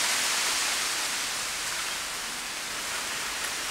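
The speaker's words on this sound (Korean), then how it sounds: "여기 대나무 숲에서 파도 소리가 납니다" Wind sweeping through a bamboo forest at Undangwon in Gangjin, South Jeolla, makes a steady broad hiss and rush like distant surf, continuous with a gentle swell and no voices.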